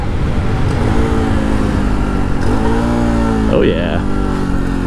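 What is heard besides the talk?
motorcycle heel-toe downshift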